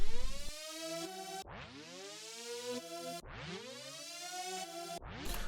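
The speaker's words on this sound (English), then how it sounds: "I have this lead being played in Omnisphere" A harsh, gritty sawtooth synth lead from Omnisphere plays a few long sustained notes, each sliding upward into pitch. The tone is bright and buzzy, close, with no voices.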